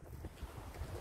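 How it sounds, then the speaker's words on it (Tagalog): Strong wind buffeting the microphone during a mountain hike under cloudy skies, a continuous low rumbling roar with gusty swells, loud and close, with no voices. "Sobrang hangin talaga."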